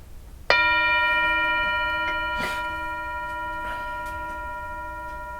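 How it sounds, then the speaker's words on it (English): A single meditation bell struck once, a clear ringing tone that sustains and slowly fades, with faint room sounds beneath. "I'm going to ring the bell."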